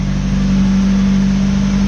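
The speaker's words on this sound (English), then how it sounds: "Okay, car is running" A car engine idling steadily while parked and out of gear, warming up with a fan running, giving an even, close, unbroken hum with no revving.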